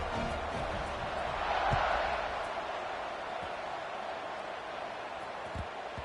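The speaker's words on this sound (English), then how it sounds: "this crowd is feeling themselves after that last drive" A football stadium crowd roars in a broad, distant wash before a kickoff, swelling briefly then holding steady, with a commentator talking over it.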